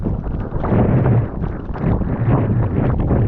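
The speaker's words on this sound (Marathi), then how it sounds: "सह्याद्रीच्या कुशीत घुमणारा वारा अंगावर काटा आणणारी थंड हवा आणि आकाशातून अखंड कोसळणारा पाऊस" Wind gusts through the Sahyadri hills during heavy monsoon rain, a loud, steady broadband roar with slow surges and buffeting against the microphone, with no voices.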